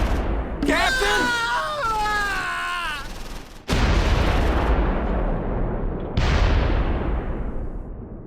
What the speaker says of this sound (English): But comes under fire from the Panzers